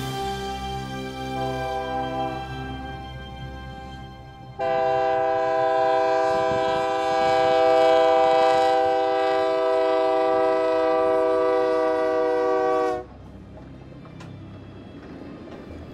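The whistle of Union Pacific Big Boy 4014, a restored steam locomotive, sounds one long, loud, steady blast of about eight seconds. Quieter rumbling rail noise comes before and after it.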